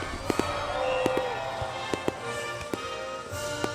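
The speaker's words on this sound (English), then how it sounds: "I want you to come out here and see the fireworks." Fireworks burst at a July community celebration by a lake, several sharp cracks and booms spaced irregularly over a steady crowd murmur and sustained tones, moderately distant.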